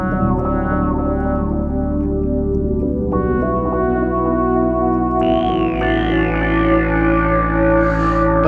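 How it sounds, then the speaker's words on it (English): A Roland JD-XA synthesizer plays sustained chords and stepping melodic lines thickened by chorus, with reverb and delay trails, loud and continuous throughout with no talking. "I'm going to add a bit of reverb and delay."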